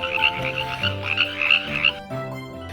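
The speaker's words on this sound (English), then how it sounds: "He sent frogs into Egypt, and they were everywhere, covering the whole city." Frogs croak in a dense, continuous chorus, loud and close, with rapid pulsing calls layered over lower droning tones.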